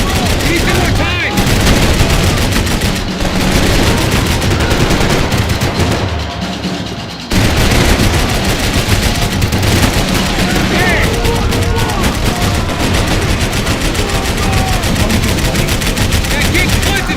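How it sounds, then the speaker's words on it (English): Dense, continuous gunfire in Max Payne 3, with rapid automatic bursts and heavy shots filling the scene and bullets whizzing close by, briefly thinning around the middle before resuming loud and constant. "I can't concentrate with bullets swinging past my head!"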